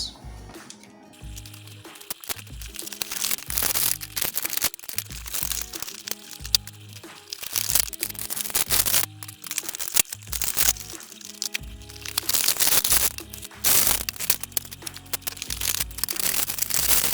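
Plastic packaging and cardboard of X-Men Hasbro Legends action figures being torn open and crinkled, with repeated sharp crackles, crunches and tearing bursts separated by brief quiet gaps.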